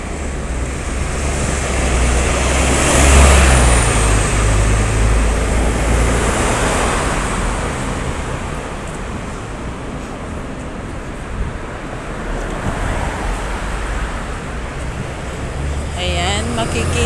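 Buses and other vehicles roll past on a busy city road during an outdoor walk, a steady, loud wash of traffic rumble and road noise that swells and fades throughout, with a voice talking over it.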